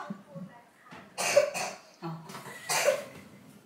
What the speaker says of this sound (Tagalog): Inuubo ka pa?